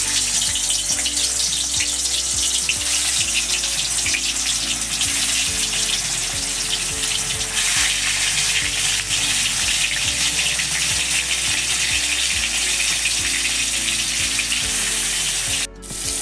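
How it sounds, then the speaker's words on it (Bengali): Rupchanda fish fries steadily in hot oil, giving a dense continuous sizzle with faint clinks of a utensil, close and loud throughout, with no voices. "তেল গরম হয়ে গেছে, এখন আমি মাছগুলো ভেজে নিচ্ছি"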